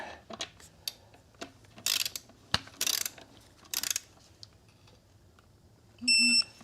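A wrench ratchets in short clicking bursts while a bolt is tightened during dual clutch work on a 2012 Ford Focus, with scattered metallic clicks and taps, close by, ending in a brief beep.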